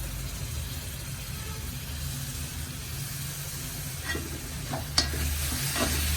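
A coconut and tamarind mixture is stirred into squid masala in a pan, making a steady sizzle and frying hiss with a few scraping spoon strokes near the end, and no talk.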